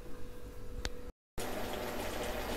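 Chicken pieces simmering in a pot for chicken gravy, a steady close bubbling and rolling boil, broken once by a brief moment of silence before the bubbling resumes.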